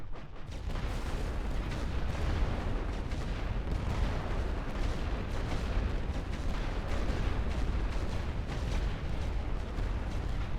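Sustained artillery barrage in The Great War: Western Front, a World War I strategy game, with dense, overlapping booms and rumbling blasts rolling continuously at full intensity, no talking.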